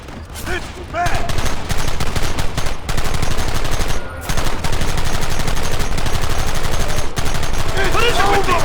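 Western-style gunfire in the Red Dead Redemption video game, with loud repeated rapid shots and bursts continuing almost without pause, brief gaps between volleys and shouting voices mixed in.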